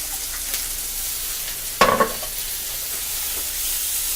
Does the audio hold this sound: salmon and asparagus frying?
yes